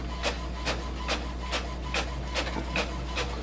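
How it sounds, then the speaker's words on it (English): An HP Envy 5660 inkjet printer prints a page, its print head sweeping back and forth in steady rhythmic passes, about eight even strokes over a constant low motor hum, close and clear. "It's a nice printer, good looking printer, and has a lot of features, and it's printing something here"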